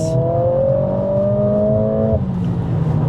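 A Mercedes-AMG A45 S four-cylinder engine revs hard and accelerates, a loud steady drone that climbs in pitch before a gear change drops it, with no talk over it.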